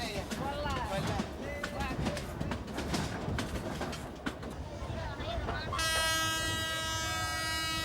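A train rumbles steadily with a busy crowd chattering nearby, then a loud sustained horn blares near the end.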